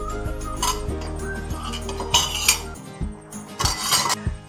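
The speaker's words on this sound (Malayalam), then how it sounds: "ചെറിയ ചട്ടി അടുപ്പത്ത് വെച്ചിട്ട് ഒന്ന് ഉള്ളി മൂപ്പിച്ചിടാം." A small clay pot is set on a kitchen stove while preparing a prawn and bottle gourd curry, producing several hard knocks and ringing clinks spread across a few seconds, close and distinct over a low hum.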